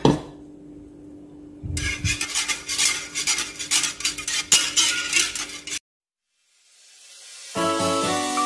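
Utensil scraping and stirring a boiling mixture in a pot to keep it from clumping, a run of close, busy rubbing and clinking strokes after a quiet start, then a pause.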